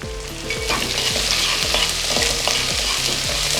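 Onions and curry leaves fry loudly in a pan, a steady dense sizzle broken by regular scraping strokes of a spoon stirring them, with no voices.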